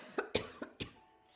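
Four sharp coughs in quick succession from one person, close and fairly quiet, in a calm meditative setting, with the last trailing off into silence.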